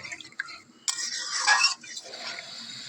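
Water from rinsing a grinding stone of mustard-poppy paste poured into a simmering Bengali sweet-and-sour fish curry gravy, a close splashing pour of about a second, with soft kitchen clatter before and after.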